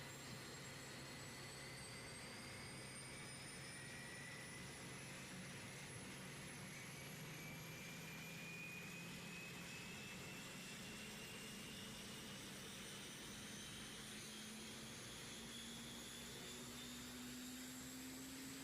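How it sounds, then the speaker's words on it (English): A simulated C-130 turboprop engine in the game Tower Unite spools up with a steady roaring drone and a rising whine that climbs in pitch throughout, continuous and with no talking. "I created these engine sounds myself through editing, using real engine sounds from a C-130"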